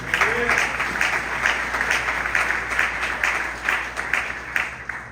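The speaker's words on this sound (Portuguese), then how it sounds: "E aplausos a Deus" A church congregation applauding during a Sunday family service, a steady dense wash of clapping filling the room without a break.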